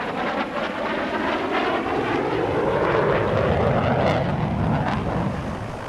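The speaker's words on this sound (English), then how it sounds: "SK37 Viggen." A Saab SK37 Viggen jet from the Swedish Air Force historic flight performs a flying display at the 2019 Gdynia airshow, a loud, continuous roar that swells and holds across the whole stretch with no voices.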